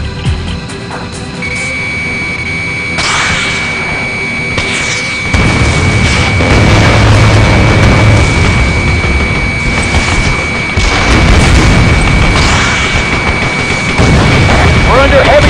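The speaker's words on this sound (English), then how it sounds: "Our runway perimeter is under heavy fire." Explosions and heavy fire hammer a runway perimeter in Ace Combat Assault Horizon, with repeated loud booms and crashing bursts over a dense rumbling battle din and radio voices, growing heavier partway through.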